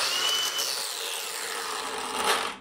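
A Ryobi brushless angle grinder spins down under its brake: a loud, close, steady whirring whine that slowly drops in pitch and then cuts off at the end, with no talking.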